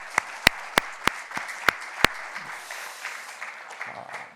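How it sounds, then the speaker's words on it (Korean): A church congregation at a Sunday worship service begins applauding, a handful of sharp, evenly spaced claps up front giving way to a softer, steady wash of clapping from the crowd, with a voice briefly audible. "오늘 우리를 만나게 해주신 하나님께 영광을 드리는 영광의 박수 하시겠습니다."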